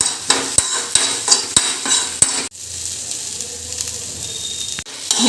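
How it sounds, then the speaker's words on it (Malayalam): Okra (ladies finger) roast fries in a pan. A spoon clacks and scrapes against the metal in a quick rhythm, then gives way to a softer, steady sizzle with an occasional clink. "ഇളക്കി കൊടുക്കണം"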